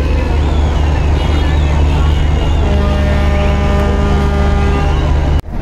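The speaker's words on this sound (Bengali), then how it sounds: "ব্যাক গিয়ার দিয়ে দিল পারাবত ১৮ লঞ্চ।" Paraboth 18, a passenger launch, reversing on a river: a loud, steady low engine drone with tonal hum runs throughout, mixed with water wash and distant crowd babble, cutting off abruptly near the end.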